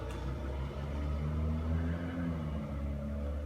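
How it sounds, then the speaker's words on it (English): A car or truck passes at moderate distance, a low engine rumble that swells and then eases off over a few seconds, with no talking. "Noise of a car or a truck."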